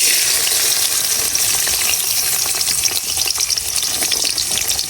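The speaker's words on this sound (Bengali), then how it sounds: "এখন আমি দিয়ে দিতেছি রসুন গুলা" Garlic cloves dropped into hot oil for frying greens, giving a loud, steady crackling sizzle that runs unbroken and close throughout, with no voices.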